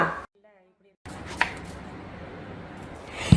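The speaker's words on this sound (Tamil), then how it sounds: "நம்ம இப்போ கத்திரிக்காயை இந்த மாதிரி நறுக்கி வச்சுக்கணும்" A knife chops through an eggplant on a cutting board, two crisp cuts against quiet room noise.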